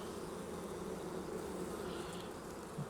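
Honey bees buzz steadily at an opened hive during a brood inspection, a dense, continuous hum at moderate level with no voices.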